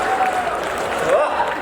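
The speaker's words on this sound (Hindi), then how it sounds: "और ये उन्हीं लोगों ने ताली बजाई है जो मेरी तरह।" Audience at a Hindi hasya kavi sammelan comedy poetry event breaking into applause, a steady broadband clapping wash that holds at even loudness throughout with a faint crowd murmur.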